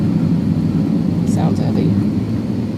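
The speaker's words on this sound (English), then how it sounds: "another aircraft taking off in front of us." An airliner taking off at Dallas/Fort Worth airport gives a loud, steady, roaring rumble at some distance, with a person talking over it.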